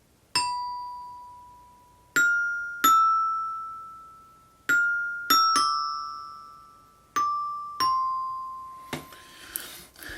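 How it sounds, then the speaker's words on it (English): Bright metallic bell tones strike one at a time, eight clear notes at uneven intervals, each ringing out and fading, ending in a brief shimmering clatter. "Apparently a glockenspiel is what this specific one is called"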